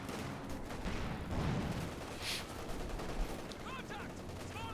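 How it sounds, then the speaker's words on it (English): Bursts of gunfire from a real-time strategy game crackle at mid distance under a bed of battle noise, scattered shots and short volleys across a few seconds with no talk. "Nice target firing there from Asiamint."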